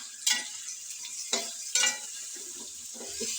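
Potatoes and tomatoes fry in a pan while being stirred, giving a steady sizzle with a few sharp scraping strokes of the utensil against the pan and no talking.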